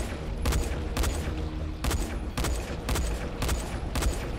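Rapid gunfire in the video game Dying Light: The Following, a loud run of closely spaced shots in repeated bursts with brief gaps between them.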